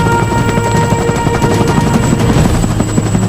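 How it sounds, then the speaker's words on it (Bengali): A helicopter nearby in the Panama jungle, its rotor producing a loud, continuous, rapid chopping thud with a steady engine whine, no voices over it. "এই হেলিকপ্টার আমি আবার দেখতে পাবো আমার অভিযানের শেষে ক্যারিবিয়ান উপকূলে"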